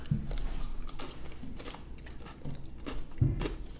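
Crunchy cinnamon-flavored pretzels are chewed close to the mic, with soft rhythmic crunching bites over a quiet background.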